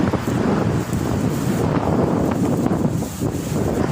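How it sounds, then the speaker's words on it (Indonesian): Sudden strong wind gusting outdoors by the sea among fishermen, a loud continuous roar buffeting the microphone with rustling noise throughout. "tiba-tiba angin kencang"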